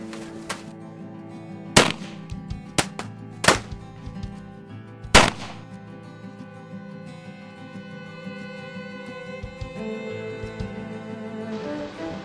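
Several sharp gunshots ring out during a staged Old West bank robbery reenactment in St. Joseph, Missouri: scattered loud cracks in the first five seconds, then a steady background murmur with no further shots.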